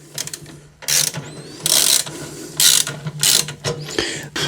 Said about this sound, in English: what you do is you bottom out the screws until they fully bottom out